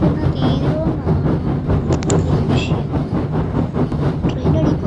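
A train in a car simulator video game rolls past with a loud, steady rumble and rhythmic rail clatter, plus a few brief metallic clicks partway through.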